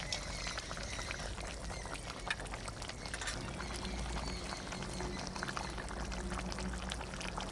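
Para fish curry with potatoes simmers in a pot, a steady close bubbling and hissing boil that runs evenly throughout with no talk.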